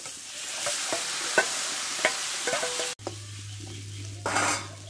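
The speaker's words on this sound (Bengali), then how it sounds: "এবার সিদ্ধ করে রাখা আমি ছোলার ডালটা ঢেলে দেবো।" Boiled chana dal poured into a pan of fried soybean with coconut and raisins, heard as close stirring and scraping over a steady sizzle, then a sudden louder hiss as the dal goes in.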